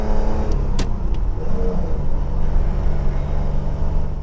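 Citroën SM's 177-horsepower Maserati engine pulls hard, a loud, steady, deep droning roar heard from inside the car with no talk over it.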